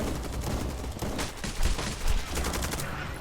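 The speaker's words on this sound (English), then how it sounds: "Some of the guns do sound a little bit anemic. I want to hear a bit more of a heavy thud." Futuristic gunfire in the shooter game Eximius: Seize the Frontline, with rapid bursts of light, crackling automatic shots layered into a dense fusillade, steady and fairly faint.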